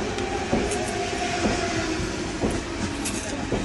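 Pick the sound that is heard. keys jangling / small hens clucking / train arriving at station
train arriving at station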